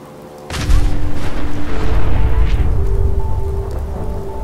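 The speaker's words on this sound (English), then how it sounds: "I'm really sorry I walked you into that explosion" A loud explosion in Fallout 4 at Parsons Creamery bursts out suddenly and then rumbles on as a sustained, crackling roar with falling debris-like texture, close and with no talk.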